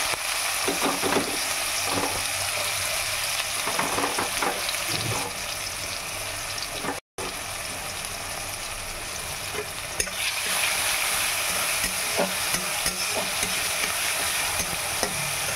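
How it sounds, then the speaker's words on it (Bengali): Chopped onion dropped into hot oil with cumin, a loud dense frying hiss running throughout with spoon scrapes and clinks near the start, a brief cut midway, then the sizzle carrying on steadily, no speech. "জিরে দিয়ে একটা সুন্দর গন্ধ বেরিয়েছে। তো এবার আমি দেবো এতে পেঁয়াজ কুচি।"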